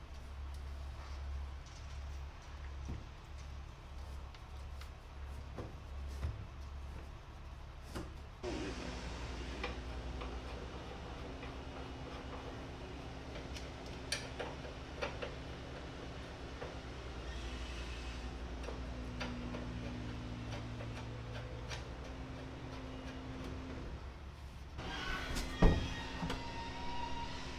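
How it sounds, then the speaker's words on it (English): Construction work nearby with a dump truck collecting scrap, heard as a distant, continuous low rumble of engine and machinery with scattered clanks and knocks. "They're doing construction and they got the dump truck over there getting all the scrap."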